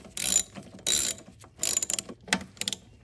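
Ratchet clicking in several quick bursts as the throttle body bolts on a 2017-2022 engine with a ported intake manifold are snugged down in a crisscross pattern, close and crisp with short pauses between passes.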